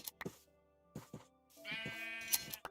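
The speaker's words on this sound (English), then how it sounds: "Y'all, there are so many sheep here." Sheep in a video game bleat several times close by, with short calls followed by a longer wavering bleat.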